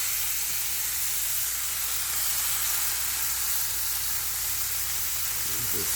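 Pounded deer tenderloin steak sizzles in a hot pan, a loud, steady, close frying hiss that continues unbroken throughout.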